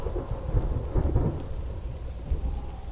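Thunderstorm sound effect in an audio drama, with deep rolling thunder rumbles over steady rain and gusting wind, loud and continuous with no talking.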